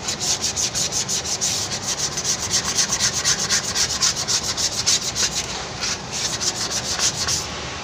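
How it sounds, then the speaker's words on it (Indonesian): Steady rhythmic scraping of sandpaper rubbed back and forth on a metal brake drum, fast repeated strokes at close range, loud and continuous. "sama piringan tromol ini guys kita amplas"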